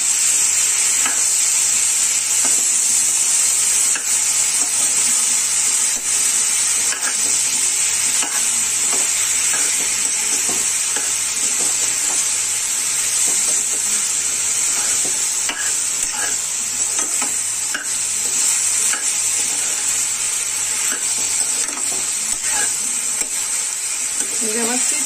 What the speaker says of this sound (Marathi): तेलामध्ये व्यवस्थित परतवून घ्यायचं.